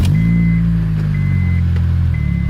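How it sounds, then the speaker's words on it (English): An Acura RSX with a K-Pro engine running after startup, a loud steady low engine drone with a faint repeating beep above it, no talk. "Let them go ahead and start this thing up."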